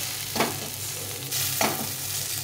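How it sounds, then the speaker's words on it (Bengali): A green paste stir-fries over high heat in a pan, a loud constant sizzle with two distinct scraping strokes of a spatula pushing the paste around. "হিটটা বাড়িয়ে দিয়ে কষিয়ে নিতে হবে"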